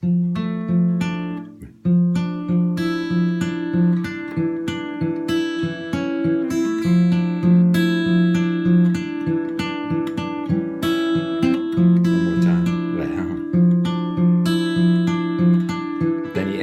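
Clean guitar strumming a slow chord progression that steps downward, steady rhythm with ringing notes, played alone.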